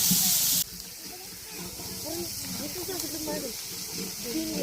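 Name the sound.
oil sizzling with onions in pot over forest fire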